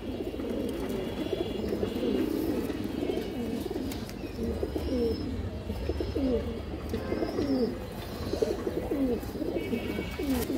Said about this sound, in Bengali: এই যে দেখেন পুরান লাইনের একটা ছাপচিলা নর কবুতর